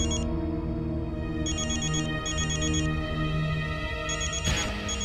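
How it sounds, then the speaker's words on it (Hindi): A phone rings with repeated bright electronic ringtone bursts over a steady background music bed in a household drama scene. "फोन मत उठाना, बजने दो।"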